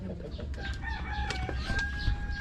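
A rooster crows in a long, drawn-out call among backyard chickens that cluck intermittently nearby, with some scattered clatter in the background.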